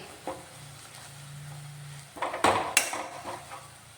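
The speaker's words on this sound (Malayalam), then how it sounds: "ഒരു ടീസ്പൂൺ ചില്ലി ഫ്ലേക്സും ചേർത്ത് കൊടുത്തിട്ട് നന്നായിട്ടൊന്ന് വഴറ്റിയെടുക്കാം" Chicken being sautéed in a pan with spice powders and chili flakes, giving a soft sizzle with scattered stirring scrapes and a few sharp utensil clinks against the pan near the end.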